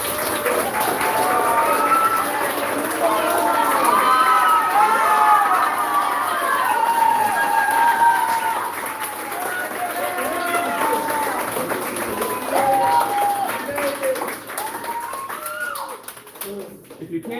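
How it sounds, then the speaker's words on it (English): Applause and cheering fill a room at a karate belt promotion as a brown belt is called up, sustained clapping with excited voices and chatter mixed in, swelling and easing over the whole stretch. "If you can't tell by the applause"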